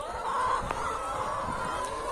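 Chickens on a farm clucking softly in the background, a few faint, scattered calls over a steady low ambient hum.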